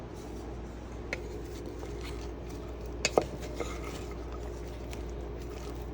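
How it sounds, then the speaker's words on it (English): Bacon and beef bourguignon get stirred in a pan, a quiet low scraping with a few sharp utensil clicks against the metal around the middle, close by with no talking. "I'm gonna go stir it up a little bit."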